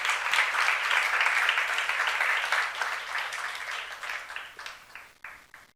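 Congregation applause during a church youth service, a dense, steady roll of clapping that holds strong at first and then thins and fades away over the last couple of seconds.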